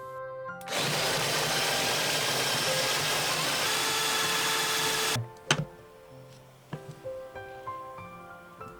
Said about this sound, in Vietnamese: Băm ra hoặc là mình xay cũng được, mình cho vô cối xay cho nhanh nè.